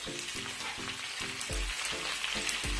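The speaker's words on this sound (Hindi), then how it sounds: "इस स्टेज पर मैं एक टमाटर डाल रही हूँ, स्लाइस में कटा हुआ।" Sliced tomato frying with light-brown onions for bhuna gosht, a steady close sizzle punctuated by regular stirring scrapes against the pan.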